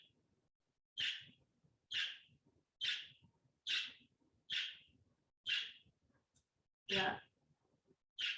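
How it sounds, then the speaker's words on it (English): A pet bird calls in a quiet indoor room: about eight short, evenly spaced shrill calls roughly once a second, moderately close, with one louder, harsher call near the end and a brief spoken word. "we have a new bird and it doesn't talk except now that I'm on yoga, it's talking"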